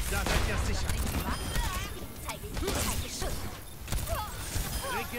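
Gunfire and ability mechanisms from the video game Overwatch crackle in rapid bursts and whooshes throughout, mixed with game effects while a player talks over them.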